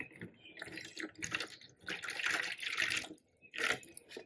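Water pours and splashes in uneven bursts into a concrete mix for floor tiles, with short pauses between pours; close and fairly quiet.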